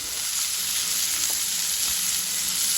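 Big chunks of onion frying in a pan, giving a steady, dense sizzle that runs unbroken from start to finish at close range, with faint stirring clinks.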